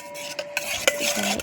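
Chaat ingredients, freshly chopped, are tossed and mixed by hand in a bowl, giving soft scrapes and light clinks over about a second and a half, with a sharp tap near the middle and no talking.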